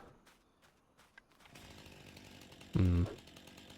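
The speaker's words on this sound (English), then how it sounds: "we have a chainsaw too, because you kind of have to." A chainsaw in the video game Farming Simulator revs up after some soft clicks, then cuts with a loud, buzzing roar that surges briefly before settling back to a steady drone.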